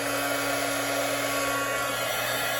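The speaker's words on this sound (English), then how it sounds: "So I've got my heat gun. It'll be a bit noisy for a moment." Heat gun blowing steadily during card making, a constant loud whooshing rush of air with a faint motor hum underneath, close to the listener and without any talk.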